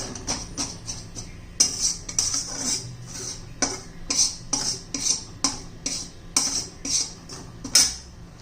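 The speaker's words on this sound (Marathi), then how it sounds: "या तुपामध्ये मस्त असं आपलं हे बेसन पीठ भाजून घ्यायचे" A spoon scrapes and stirs gram flour (besan) roasting in ghee in a pan, giving steady, rhythmic strokes of close-up scraping and sizzling, with no voices.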